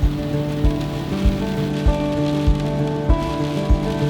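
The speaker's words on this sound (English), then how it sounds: "the rain did not let up" Steady rain falling in Colorado, a dense continuous patter with regular soft thumps roughly every half second, close and fairly loud, with no voices.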